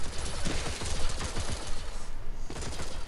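Dense, continuous gunfire from the Locust gun in the video game Armajet, a loud rapid stream of shots that fills the whole stretch with barely a pause.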